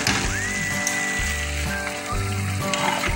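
Ground beef sizzles and fries in a pan as a sauce is started, a loud, steady crackling sizzle close up, with a few louder spatters over a continuous frying hiss.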